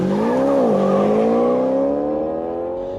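A car being driven fast speeds away, its engine revving loudly with a rising, then gliding pitch before fading slightly toward the end, with no voices.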